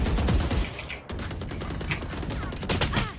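Rapid gunfire from the shooter game Valorant crackles in dense, continuous bursts throughout, loud and close, with no clear voices over it.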